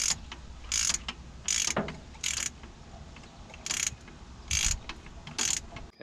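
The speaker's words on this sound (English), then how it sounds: "It's a 9/16 socket on a 3/8 drive wobbly extension." A ratchet turns a 9/16 socket on a 3/8-drive wobbly extension during fuel pump work on a 390 big block in a 1977 Ford F600 tow truck. It gives about seven short, close bursts of rapid clicking at an irregular rhythm over a low background rumble.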